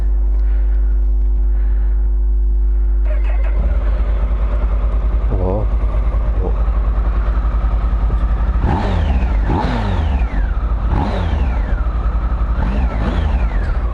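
A 2016 Triumph Tiger Sport motorcycle engine fires up after a brief low hum, then idles and revs repeatedly in loud, rising bursts, close by; someone speaks briefly.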